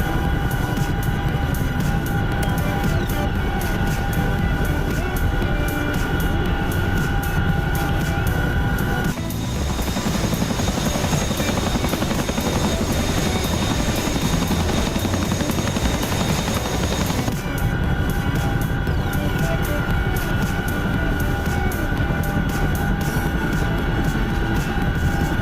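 A Chinook helicopter flies in the DCS flight simulator, a loud steady rotor and engine drone that holds throughout, with its tone shifting for a stretch in the middle.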